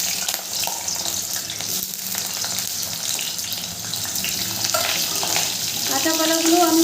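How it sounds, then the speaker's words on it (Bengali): Raw plantain pieces frying in hot oil while being stirred, giving a steady close sizzle with scraping and light clinks, the frying noise continuous throughout and slightly louder toward the end. "কাঁচা কলাগুলো আমি খুব ভালো করে নেড়ে চেড়ে ভেজে নেব"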